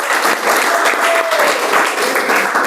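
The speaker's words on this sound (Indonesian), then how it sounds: "Kita beri tepuk tangan ya." A classroom full of students claps together in a loud, close, steady burst of applause that carries through the whole moment without a break.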